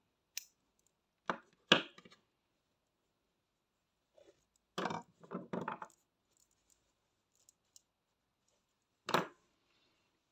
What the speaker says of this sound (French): on va couper le fil et tirer.